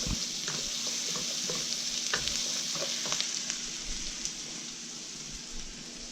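Lots of garlic frying in a pan for garlic noodles, giving a steady broadband sizzle with small crackles and occasional stirring clicks, close and continuous, no talking.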